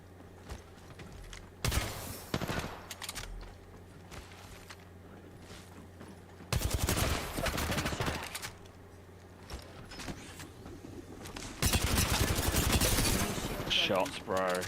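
Gunfire in a ranked competitive shooter comes in three loud, dense bursts of rapid shots separated by quieter stretches, with speech throughout.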